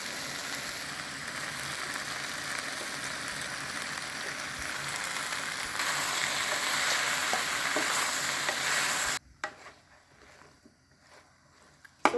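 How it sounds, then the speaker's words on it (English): Half-moon slices of zucchini frying in a pan on medium heat, a steady, close, dense sizzle that grows slightly louder before cutting off abruptly, leaving faint quiet stirring. "On medium fire, we are gonna add now our zucchini."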